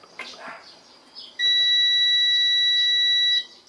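A multimeter gives a continuity-test beep while probing a car's electrical circuit: one loud, steady tone lasting about two seconds, set against faint handling noise and no speech.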